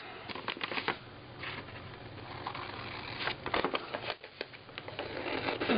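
Paper scrap art for a junk journal being cut apart with scissors, a soft continuous rustle and snipping close by, fairly quiet, with no talking.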